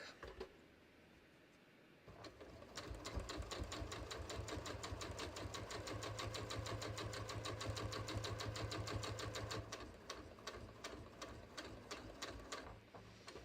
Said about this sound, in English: I'm going to sew down 2, maybe 3 stitches, and then I'm going to go back.